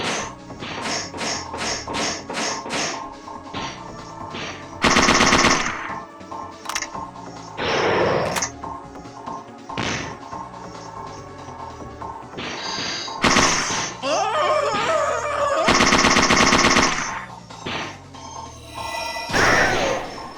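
Bursts of gunfire from the PlayStation game Parasite Eve II ring out in a loud, busy game soundtrack, with repeated sharp shots and several long, dense volleys standing out over the background music and effects.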